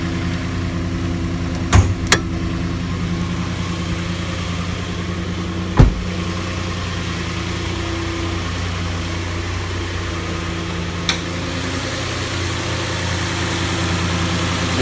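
A 2016 Nissan Frontier pickup's V6 engine idles close by with the hood open, a low, even rumble broken by a few brief sharp clicks or knocks.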